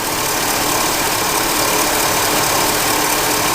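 Car engine with a suspect alternator and battery, idling close by with a steady, loud running drone and faint unevenness, as if beginning to run a little rough; no talking.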